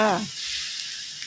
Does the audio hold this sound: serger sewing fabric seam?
no